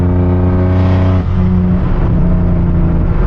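A turbocharged BMW E36 engine pulls on light throttle just into boost, a loud, close droning growl with a rising harmonic whine that shifts pitch midway as the car accelerates.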